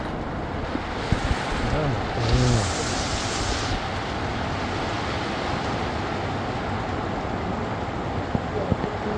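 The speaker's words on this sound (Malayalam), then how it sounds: "ഭയങ്കര ശക്തമായ മഴ കേട്ടോ ഒരു ഒഴിവുമില്ല മഴ" Dense, continuous hiss of heavy rain pouring steadily, with a few faint thumps and a brief murmur early on.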